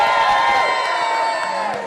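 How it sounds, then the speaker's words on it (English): A boisterous crowd cheers and whoops at a wrestling convention event held at a restaurant, a dense, loud wash of many voices with a continuous roar that tapers slightly near the end. "We are here at Brothers Patty Shack in St. Johns County in rural Galt Village to a pretty boisterous crowd"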